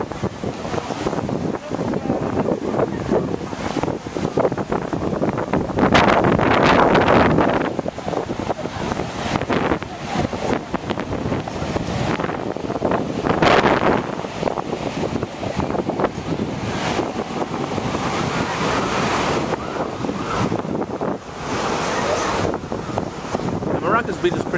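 Surf and gusting wind at Maracas Beach, a sheltered bay on Trinidad's north coast, form a steady roar of breaking waves and wind buffeting the microphone, swelling around the sixth and fourteenth seconds, with no talk.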